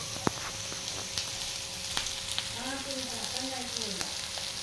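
Bombay duck fish fry in a pan with a continuous crackling sizzle, a few soft utensil taps, and a brief faint warbling sound partway through.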